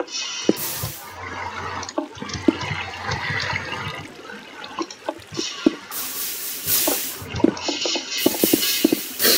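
Water flowing and splashing in the Minecraft video game, rushing bursts and trickles that come and go among small clicks and block sounds, moderately loud with no talking.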